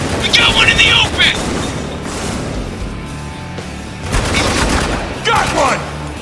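Rapid gunfire crackles through a firefight in Spec Ops: The Line, steady volleys of sharp cracks running beneath shouted voices throughout.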